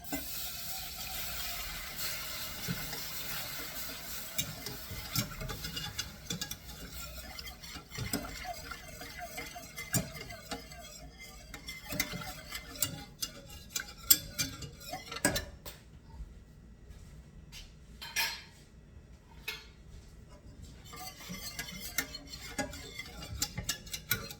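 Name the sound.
stirring toasting flour in a pan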